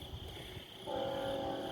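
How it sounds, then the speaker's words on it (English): CN manifest freight train heading south, its horn sounding steady sustained tones that swell louder partway through over low rumbling of the train, with no voices. "There's a train."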